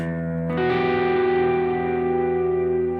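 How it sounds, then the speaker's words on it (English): A sustained electric guitar minor ninth chord with a rich, jazzy color, strummed once and left ringing with effects-laden shimmer and reverb, slowly fading. "you can kind of get that minor 9th sound"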